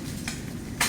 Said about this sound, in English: You can hear the sizzling, so it's nice and hot.